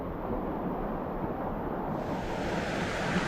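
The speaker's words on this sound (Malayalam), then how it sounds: "വെള്ളച്ചാട്ടം ഉണ്ട്." An outdoor waterfall gives a steady, even rushing roar that holds at one level throughout, with no voices.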